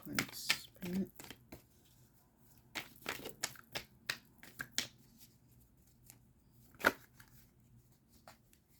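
Tarot cards being shuffled and drawn at close range, a series of quick papery riffles and slaps in uneven bursts, with soft talk in between.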